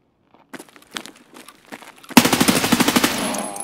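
Rapid bursts of video-game gunfire erupt loudly after a couple of seconds of quieter scuffling, a dense automatic rattle of evenly spaced shots carrying on to the end.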